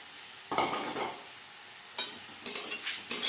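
Cumin and coriander fry with dried chillies in a hot kadai over a low flame, giving short bursts of sizzling and stirring scrapes separated by quieter pauses.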